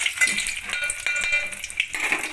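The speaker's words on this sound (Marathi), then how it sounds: "तर मी आधी टाकून घेते लसूण हे बघा तेल गरम झालेलं आहे" Garlic hits hot oil in a pan while cooking a spicy masala pea rice khichdi, giving a bright, close, steady sizzle with faint clinks of utensils and no talking.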